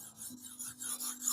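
A kitchen knife being sharpened on a fine 600-grit whetstone gives a faint, brief rasping scrape, with a few quiet strokes and a low hum behind them.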